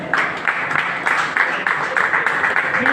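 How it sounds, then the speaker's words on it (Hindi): Audience applause greeting a block president at a Bhim Army rally, a steady wash of many hands clapping with repeated swells, continuous and fairly close throughout. "इनका भी तालियों से अभिवादन करें।"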